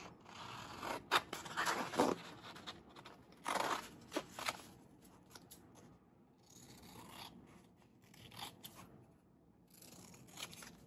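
Scissors cut a small border around a sticker for a Paris and London travel journal, with close, soft snips and rustling paper in irregular bursts and no talk.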